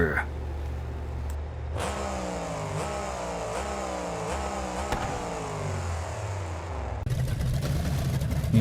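A monster truck engine in BeamNG Drive revs hard through a run of rising and falling pitch sweeps, loud and close, with crowd-like noise and a voice faintly beneath.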